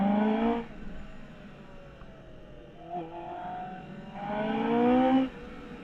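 A sports motorcycle passes on the road, its engine note rising and falling in two loud revving sweeps separated by a quieter lull, heard from the roadside.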